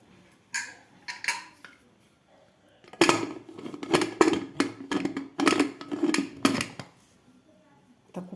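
A metal pressure cooker lid is fitted onto a cooker holding baby potatoes and half a glass of water, giving a series of close, sharp metallic clanks and scrapes in two bursts with a pause between.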